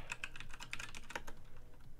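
Quick, light keystrokes on a computer keyboard in a rapid irregular run, close and faint with no talk over them.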